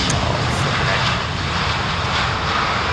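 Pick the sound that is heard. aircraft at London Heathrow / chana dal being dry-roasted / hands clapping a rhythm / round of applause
aircraft at London Heathrow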